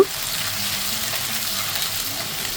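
Onions, bay leaves, cloves and cardamom fry in plenty of oil in a wok, giving a steady, close, even sizzle that holds throughout with no talk.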